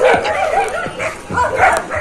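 Dogs yip and bark excitedly in quick, overlapping bursts nearby on farmland in Alaminos, Pangasinan, with some whining mixed in, loud and continuous throughout.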